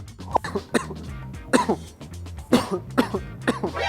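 Several harsh coughs and throat-clearing bursts come close together in an irregular series, near and fairly loud.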